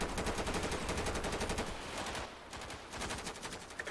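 Sustained automatic gunfire from enemy strafing in a military city-combat video game, dense rapid bursts rattling continuously for the whole stretch, with a brief lull near the middle before the shots resume.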